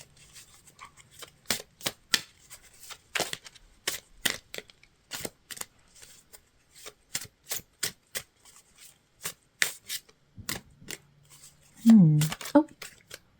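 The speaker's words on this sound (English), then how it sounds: "as I'm shuffling out these cards, which are coming nice and quick" Tarot cards are shuffled by hand in a rapid run of crisp flicks and slaps, irregular but steady, close and fairly faint, with a brief murmur of voice near the end.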